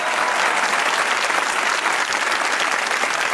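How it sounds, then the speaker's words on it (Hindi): A studio audience on a comedy talk show claps steadily, a dense, even roar of many hands that fills the whole stretch at a consistent loud level. "उनके लिए भी एक बार तालियां होनी चाहिए।"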